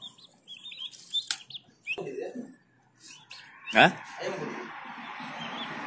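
Young turkey chicks, some over ten days old, give scattered high chirps and peeps near and far, mixed with rustling, while someone talks nearby.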